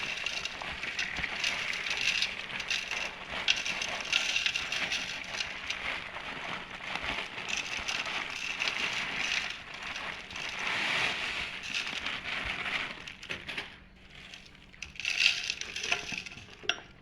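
Coarse salt packed by hand into raw mango pieces for a Goan-style pickle, a steady gritty crunching and rustling that continues close up throughout, with soft scraping and crackling textures.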